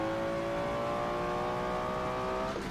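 Nissan GT-R rental car in the Assetto Corsa racing game, its engine drone steady and moderately loud with rising pitch as it accelerates, ending in a brief shift.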